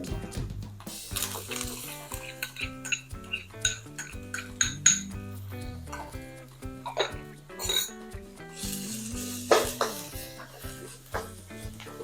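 Shallots stir-fried in a pan for a Thai canned-fish chili paste, with repeated clanks and scrapes of a utensil against the pan and soft sizzling underneath, close and busy throughout.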